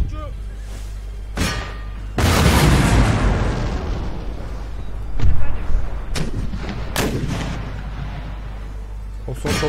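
Artillery cannon fire from the video game Empire: Total War booms repeatedly in a broad battlefield din, with several heavy blasts and thuds spread across the clip.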